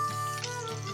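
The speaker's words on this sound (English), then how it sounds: "I've got a couple more tablespoons of butter right here that I melted. I'm going to pour it around here" Melted butter poured in a short steady stream into a frying pan holding potatoes, sausage and ramps for a frittata, a brief liquid splash close up.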